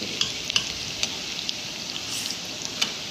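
Cheesy kebabs frying in a pan, a continuous bright sizzle with several sharp pops and spatters at irregular intervals, close and alone.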